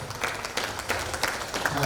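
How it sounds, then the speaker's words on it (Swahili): A church congregation at Sunday school claps for Jesus, a short burst of scattered hand claps and crowd noise, fairly close, with voices mixed in. "Pigia Yesu makofi."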